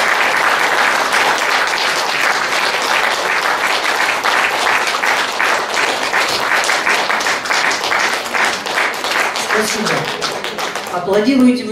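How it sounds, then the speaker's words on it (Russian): An audience in a hall applauding warmly: loud, sustained clapping from many hands with a steady, rhythmic pulse that tapers off near the end, where a voice briefly begins to speak. "Аплодируете вы здорово"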